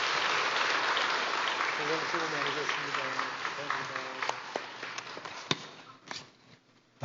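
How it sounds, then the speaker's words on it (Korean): Audience applause at a church evangelism-training graduation ceremony, steady clapping from the start that thins out toward the end, with a voice speaking over it in the latter half. "자, 큰 박수로 격려를 부탁드립니다."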